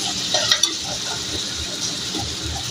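Meat sizzles steadily in a hot pan, close and continuous, with a couple of brief clinks of a utensil near the start.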